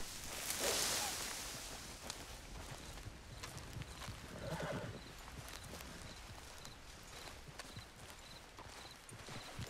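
Horse in Red Dead Redemption 2 whinnies loudly near the start, then hooves clip-clop steadily at a walk for the rest of the stretch, with soft ambient game rustle beneath.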